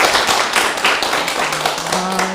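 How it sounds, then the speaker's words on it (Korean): Loud applause from a nearby audience, many hands clapping in a dense burst, with a faint tone sounding briefly near the end. "다시 한번 큰 박수 부탁드리겠습니다."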